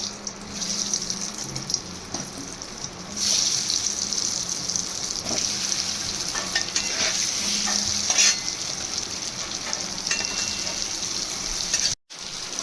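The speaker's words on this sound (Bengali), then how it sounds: "এবারে ওই তেলেই আলুগুলো ভেজে নেব" Steady loud sizzling of potatoes frying in oil, close by, with occasional stirring scrapes and a brief cutoff near the end.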